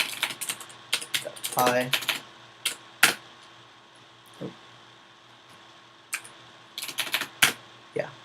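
Quick bursts of computer keyboard typing, clicking in short clusters with pauses between, close and fairly faint, with a person speaking briefly in between.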